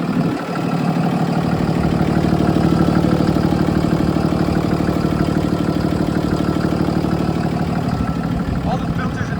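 A 2017 Freightliner M2 106 box truck's 6.7 liter Cummins ISB inline-six with Allison transmission idles steadily and loud up close, a continuous low diesel rumble holding even throughout.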